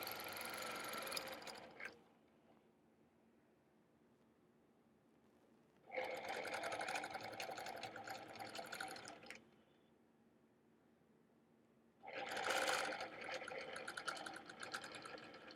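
A quilting sewing machine stitches a guitar-themed quilt in three bursts of rapid, rattling mechanical stitching, near and fairly loud, separated by quiet pauses.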